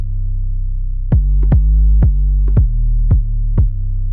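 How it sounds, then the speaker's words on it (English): Processed 808 bass from a beat pack: deep sustained booming bass notes struck about every half second in a steady pattern, each with a sharp click at its attack, loud and alone. "that is an 808 from my pack"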